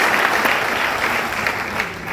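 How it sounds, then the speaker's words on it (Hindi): Loud applause from a crowd at a direct-selling leadership event, many hands clapping in a thick, continuous burst that stays strong from start to finish. "एक बार जोर से ताली बजा के बता दीजिए कि कैसे ताली बजाते।"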